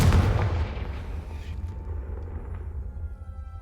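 A Confringo spell blast goes off in Hogwarts Legacy, a loud booming explosion at the start that decays into a long low rumbling tail.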